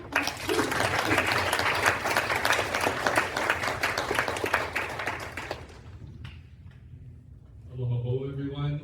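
A symposium audience applauds to welcome a speaker, dense clapping for about six seconds that fades out, followed by a voice starting to speak.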